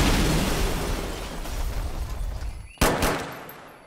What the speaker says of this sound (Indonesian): aksi mereka diawali dengan tembakan dan sebuah bom